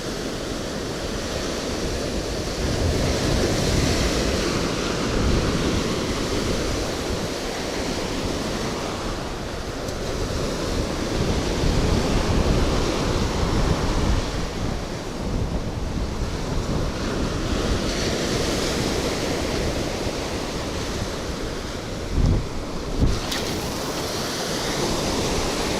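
Steady wind roars across a beach during surf fishing in Florida, mixed with continuous crashing surf; loud and unbroken for the whole stretch, with brief gusty bumps near the end and no talk.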